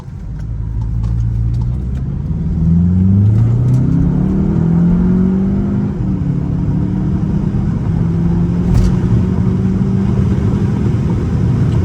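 A tuned Volkswagen Jetta GLI pulls hard from a U-turn at a light, its engine note rising through the gears with loud, close rumbling revs and a brief dip at a shift.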